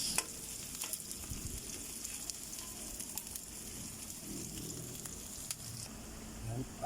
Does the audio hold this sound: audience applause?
no